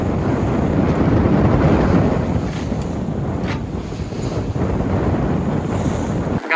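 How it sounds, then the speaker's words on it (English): Strong 24-knot wind roaring across the microphone while a sailboat with full headsail and reefed main cuts through rough seas at about seven knots, steady loud rushing of wind and water with no voices. "We've got 24 knots of wind."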